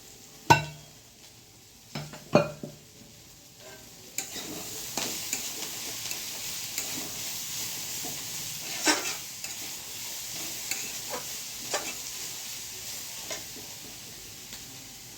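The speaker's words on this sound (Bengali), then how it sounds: "তেলটা আমার গরম হয়ে গেছে এখন এটাকে আমি ভেজে নেবো" Chicken drops into hot oil with a few sharp knocks, then a continuous, moderately loud sizzle of frying takes over, broken by occasional stirring clicks against the pan.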